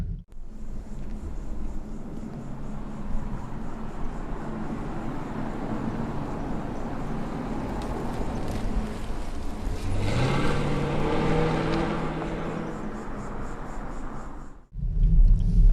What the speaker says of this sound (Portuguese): O som do V8, essa sensação toda que a gente viu agora